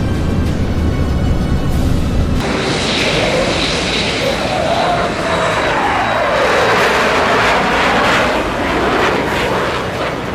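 Propeller warplane engines drone loudly in a WWII flight video game, a continuous heavy roar with a pitch sweep as an aircraft passes, under a sudden shift in the mix partway through.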